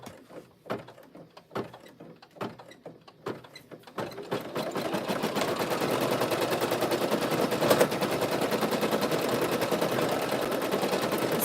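A Brother PE800 single-needle embroidery machine stitches, first with a few separate sharp clacks, then settling into a fast, steady, close mechanical rattle that runs on evenly to the end.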